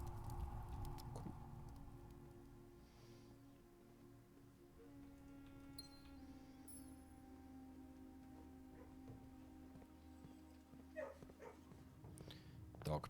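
A dog in the Blue Prince video game gives a few soft barks and yips, mixed into steady game music and background sound, with a person talking throughout.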